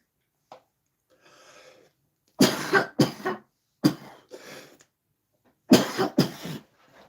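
A person coughs in a few harsh bursts, some doubled, with a throat-clearing rasp and quiet gaps between them.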